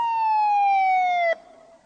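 Police car siren, a loud close wail with one long falling tone that cuts off abruptly, leaving a short fading tail.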